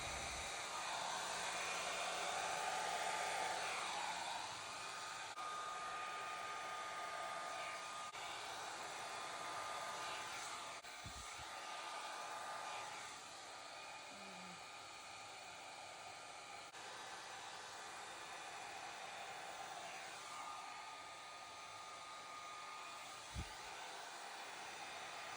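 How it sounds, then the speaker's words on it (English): A heat gun or hair dryer blows out an acrylic Dutch paint pour, a continuous steady airy roar held close for the whole stretch with slight shifts in tone and a couple of small knocks. "let's go ahead and blow this thing out and see what happens"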